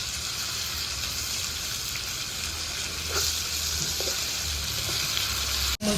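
Hilsa fish pieces fry in a pan for mustard hilsa and are turned over gently, giving a constant dense sizzle with a couple of soft scraping clinks and a brief dip near the end. No voices.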